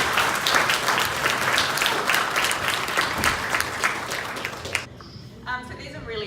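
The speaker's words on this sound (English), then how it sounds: "So I think it deserves a round of applause." An audience at a Lions Club speech gives a warm round of applause, dense steady clapping that stops abruptly, after which a speaker's voice follows.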